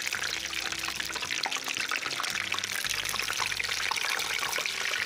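Spiralized zucchini spaghetti frying in a pan, giving a steady, dense sizzle and crackle that runs unbroken and fairly loud throughout, with no talk over it.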